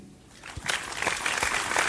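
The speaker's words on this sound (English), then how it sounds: "Weird thing to clap for." Audience applause rising after a brief lull, steady broadband clapping from a crowd that continues through the end, moderately loud and fairly close, with no talking over it.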